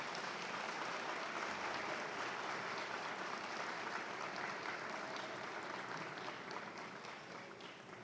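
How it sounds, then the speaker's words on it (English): Graduates at a fall afternoon commencement ceremony applauding their parents and friends, a dense sustained wash of clapping from a large crowd heard from a distance, steady throughout and easing slightly toward the end. "give a big hand of applause to your"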